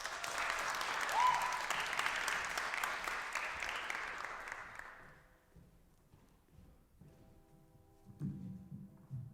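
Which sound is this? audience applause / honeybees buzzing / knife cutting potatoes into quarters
audience applause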